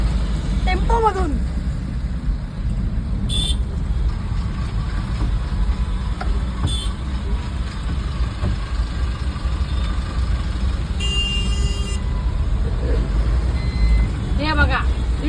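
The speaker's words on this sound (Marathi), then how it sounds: "आणि अजूनही ट्रॅफिक चालू आहे." Heavy road traffic with trucks, trailers and buses on the Ghodbunder road out of Thane, a constant loud engine rumble with brief high horn or beep tones, heard from inside a tempo.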